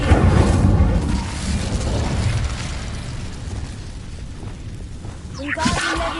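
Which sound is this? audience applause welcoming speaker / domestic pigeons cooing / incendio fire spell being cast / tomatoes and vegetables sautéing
incendio fire spell being cast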